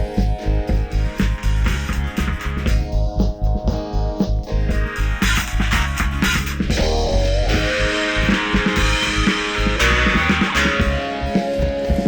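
Aggressive, gritty overdriven bass from the Airwindows BassDrive plugin with its High control raised, a bright, biting top end, playing a steady chugging line without pause.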